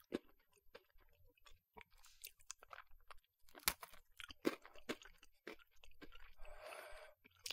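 Close-up crunching bites and chewing of a crisp chocolate-filled Japanese cookie, a series of sharp crackles at uneven intervals, no talking.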